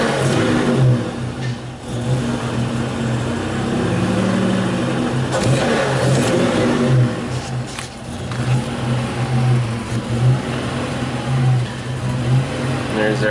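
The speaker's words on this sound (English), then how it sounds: "So we're definitely going lean when we snap the throttle" A Buick Grand National engine, running lean, revs repeatedly as the throttle is snapped, loud and close with rising and falling surges over a steady idle rumble.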